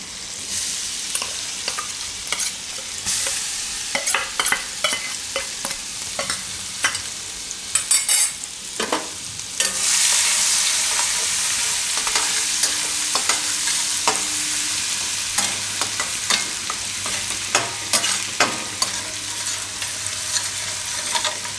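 Garlic fries in hot oil for a pasta dish with a loud, continuous sizzle, broken by repeated sharp spatula clacks and stirring scrapes that thin out midway.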